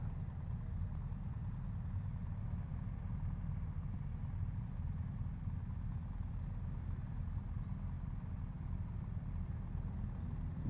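A 2024 BMW 1250 GSA motorcycle idles steadily, a low, even engine rumble with a constant throb that holds without change throughout.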